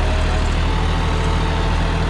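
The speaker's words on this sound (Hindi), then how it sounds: "ये भाई जैसे अपना खेत में ट्रैक्टर चलाते हैं वैसे चला रहे फिलहाल" John Deere 5405 tractor with its diesel engine running steadily in a farm field in second gear, a loud, close, continuous low rumble with a steady throb and no voices.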